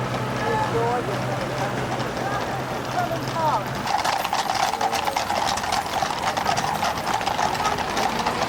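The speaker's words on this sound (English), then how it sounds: "those are beautiful horses" Horses' hooves clip-clop along a street near the entrance of Buckingham Palace in an irregular patter, mixed with busy outdoor traffic noise, and a person talks partway through.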